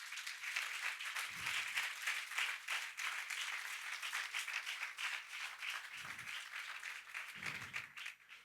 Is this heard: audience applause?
yes